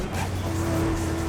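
A race car in a multiplayer racing game driving through corners on the Heritage Heights track, a steady engine drone with a sustained pitched tone and faint tire noise, continuous and close.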